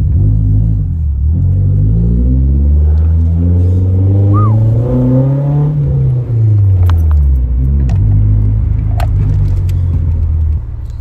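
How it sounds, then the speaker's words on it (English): A Nissan S14 240SX engine with a new exhaust revs up and settles back, its deep exhaust note rising and falling steadily and loudly, with a few light metallic clinks near the end. "the exhaust sounds amazing, guys"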